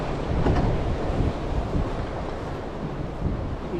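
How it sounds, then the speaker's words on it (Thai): Strong wind on a squid-fishing trip at sea in rainy weather roars steadily into the microphone, a dense continuous rumble that also carries the sound of surf and water around the boat, with no talk. "ลมแรง"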